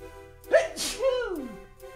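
A single sneeze from a character in the video game Last Window: The Secret of Cape West, a sharp voiced burst followed by a falling exhale, clear and close, with speech-like vocal tone.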